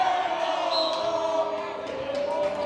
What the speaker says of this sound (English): as you probably heard the crowd